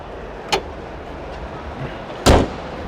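The hood of a 2018 Honda Brio is let drop and shut, giving a light tap followed by a heavier, solid thud against a quiet background.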